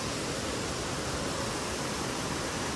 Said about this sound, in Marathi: हा बघा खाली तो धबधबा आहे.